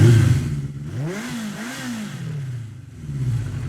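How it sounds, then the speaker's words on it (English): An engine revs in a series of rising and falling sweeps over a steady low mechanical drone, fairly loud and close, with no voices. "let's start revving that engine"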